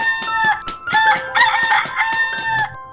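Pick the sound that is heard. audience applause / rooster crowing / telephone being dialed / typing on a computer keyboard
rooster crowing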